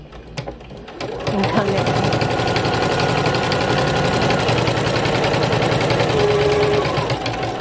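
A sewing machine runs steadily while stitching fabric postcards, its even mechanical whir continuing for several seconds after a brief start, slowing slightly at a corner; a voice speaks briefly over it.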